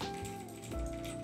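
Typing on an Akko 5075B Plus V2 mechanical keyboard fitted with Cream Blue switches, a steady patter of close keystrokes with a soft, creamy clack and no talking.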